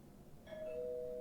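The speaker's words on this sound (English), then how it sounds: "Doorbell rings." A single soft electronic doorbell chime rings out in the video game Angels With Scaly Wings, a clear sustained tone over a quiet background hum.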